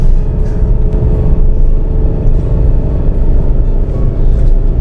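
A learner driver's car engine pulls and accelerates on the road, a loud, close, steady low rumble with a rising drone and faint road noise, no talking.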